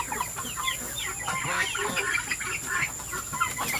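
Chickens of roughly equal size cluck and chatter together in a backyard flock, a steady busy stream of close, overlapping calls with no talk over them.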